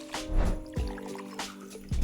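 Cognac poured into a cocktail shaker for a Brandy Alexander, a short close gurgling trickle of liquid with small splashes over about two seconds.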